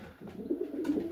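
Pigeons in a breeding loft coo softly and steadily, a low murmuring burble that swells and continues throughout, with a brief rustle partway through.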